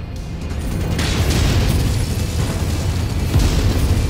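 A mech explodes in Mechwarrior 5 Mercenaries, a loud, sustained rumbling blast with deep low-end boom that swells and lingers across several seconds without any voice over it.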